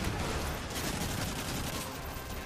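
Gunfire in Modern Warfare 3 comes as a dense, continuous barrage, rapid overlapping shots blurring into a loud, steady roar with no pause.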